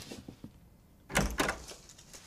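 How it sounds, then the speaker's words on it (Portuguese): A door opens in a Brazilian comedy film scene, a short burst of handle and latch clatter with a swinging thud after a quiet pause, followed by faint room noise. "então sou eu que abro a porta"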